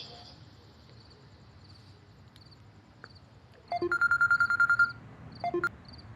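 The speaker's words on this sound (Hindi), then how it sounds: "बग्गे भाई को करती हूँ फोन" A quick series of keypad tones from a phone being dialed, about a dozen beeps in steady rhythm with a short pause, over quiet background hiss.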